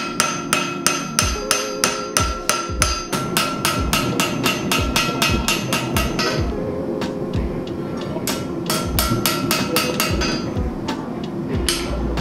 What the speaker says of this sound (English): So we're going to do one more touch-up hammering, a little bit of texturing.